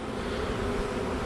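A dense, continuous buzz of a honey bee swarm close by, steady and unbroken.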